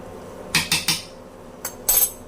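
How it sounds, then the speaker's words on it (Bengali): Metal spoon clinking against a cooking pot while ghee is stirred into khichuri, a rapid triple clatter followed by a second pair of scraping clinks, close and clear with no talk. "এই যে ঘিটা পুরো খিচুড়িতে আমি নেড়ে চেড়ে মিশিয়ে দিব"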